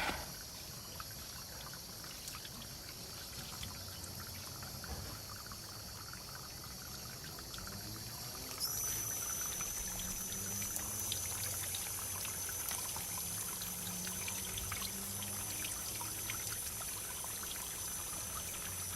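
Water streams steadily from a slightly broken hose shower head over freshly harvested ginger, a continuous hissing spray with faint splashing that grows a little louder partway through, close by and without talking.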